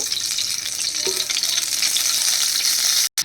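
Rohu fish pieces fry in hot oil in a pan, giving a steady, loud, dense sizzle with a brief soft stir partway through and a sudden cut near the end.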